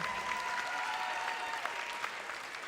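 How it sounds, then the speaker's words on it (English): Continuous audience applause at an eighth grade recognition ceremony, a dense wash of clapping with a faint tonal hum running underneath. "Let's have another round of applause for all"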